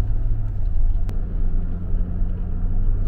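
A car driving along a road in Abkhazia in the early morning, heading from New Athos toward Sukhum; a steady low engine and tyre rumble from inside the cabin, continuous and fairly loud, with no talk.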